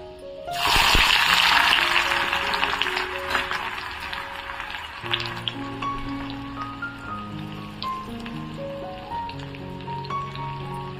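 Onion dropped into a hot tempering of mustard seeds, cumin and garlic for matar palak paneer, giving a loud burst of sizzle that settles into steady crackling frying, with tonal music playing underneath.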